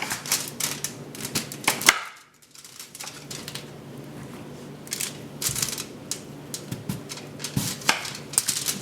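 A knife slices through raw yams on a cutting board before frying, giving a run of crisp, close cuts and taps in irregular bursts with a short pause partway through.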